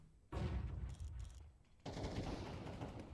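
Rapid bursts of automatic gunfire ring out in a Counter-Strike esports match, including shots fired through walls, loud and sustained with a brief dip before a second heavy volley.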